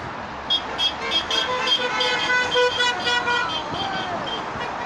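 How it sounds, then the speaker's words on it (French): Car horns honking repeatedly from passing traffic on a street during a roadside Gilets Jaunes protest near Cannes Mougins, short bursts overlapping over steady road noise, fairly close. "Ça klaxonne de partout."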